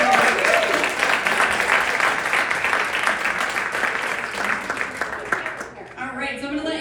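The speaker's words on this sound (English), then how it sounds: "let's give our storytellers a round of applause for being brave tonight" An audience at a storytelling event breaks into sustained applause, dense clapping filling the room before thinning out toward the end, with voices heard alongside.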